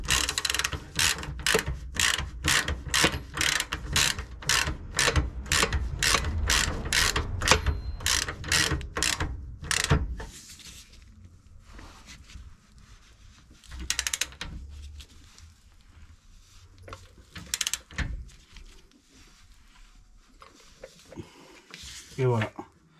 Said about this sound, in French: là on va serrer cette vis là